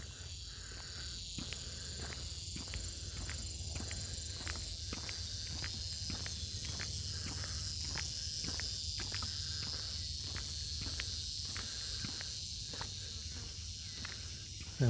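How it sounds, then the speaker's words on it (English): A cicada buzzes in a steady pulsing rhythm on a forest ridge in July, faint and distant, repeating evenly through a quiet outdoor background. "I'm hearing the random cicada."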